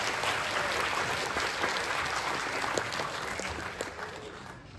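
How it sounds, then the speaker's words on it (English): Applause from a graduation ceremony audience fills the space, a steady dense patter of many hands clapping that fades slightly toward the end. "if you want to cheer for your families, you can always feel free to clap louder"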